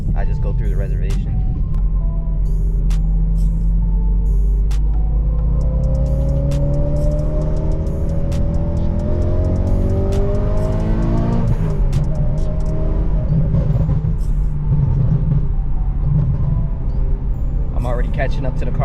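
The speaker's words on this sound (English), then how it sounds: "This V8 is a monster." A BMW E92 M3 with a V8 engine revs up through the gears from inside the car, loud and steady with a pitch that climbs, drops at a shift and climbs again, while someone talks over it.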